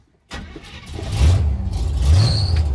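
A Chevy truck engine cranks over and catches, settling into a loud, rough low rumble with a brief rev as it fires up, close by with no talking.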